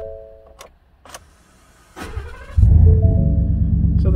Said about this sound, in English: The customer complains that the starter doesn't engage sometimes